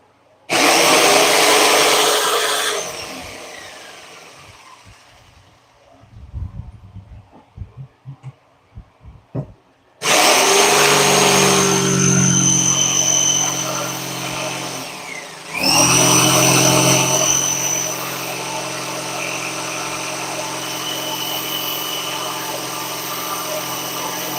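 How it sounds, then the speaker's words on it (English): A jigsaw cuts pine for a side table in loud close bursts: a rasping buzz, a few seconds of knocking and shuffling, then two long steady cuts with an abrupt restart between them. "I hate how pine rolls up when you're using a jigsaw"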